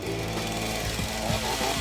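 A chainsaw runs loud and steady as it cuts into the wooden frame of an old brown armchair being upcycled, its engine droning with slight rises and dips throughout.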